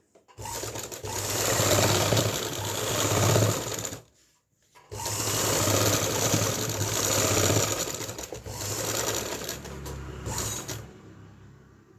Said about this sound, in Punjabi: ਅਸੀਂ ਦੇਖੋ ਸਲਾਈ ਲਗਾ ਲਈਏ